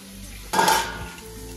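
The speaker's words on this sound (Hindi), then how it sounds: "अपना गोभी डाल देते हैं" Cauliflower dropped into hot oil in a wok sets off a sudden loud sizzle that swells and then eases into a steady frying hiss, with no talking.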